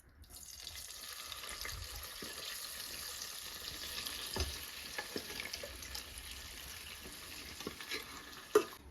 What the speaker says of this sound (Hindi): गैस की फ्लेम को बिल्कुल हाई रखेंगे और गाजर को भून लेंगे